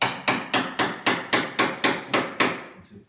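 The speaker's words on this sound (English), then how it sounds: "Then your little hammer, you're just knocking it" A small hammer knocks a piece of an old pine knockdown wardrobe into its slot, nine sharp, evenly spaced blows at a steady quick rhythm, close and clear with no talking.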